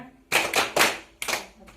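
A group performs the rhythmic 'tepuk semangat' spirit clap at a family-skills meeting, with several sharp bursts of unison clapping in a patterned beat and brief gaps between them.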